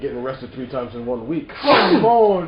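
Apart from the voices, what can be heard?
sneeze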